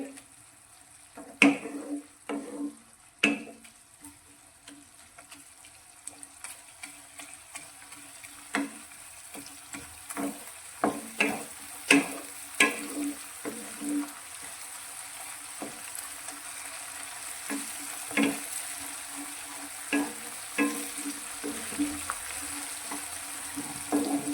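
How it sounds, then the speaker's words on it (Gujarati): Garlic sautés with tomato and onion in a pan for a bottle gourd dish: a faint, continuous sizzle broken by repeated sharp stirring scrapes and clinks, close and unaccompanied by talk. "તો 1 મિનિટ જેવું આપણે સાંતળી લઈશું, જેથી લસણનો કાચો ટેસ્ટ જતો રહે."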